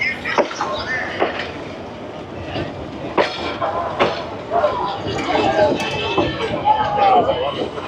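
A passenger train rolls past in Hanoi, its rumbling wheels and rail clatter running steadily at close range, mixed with street ambience and people talking nearby.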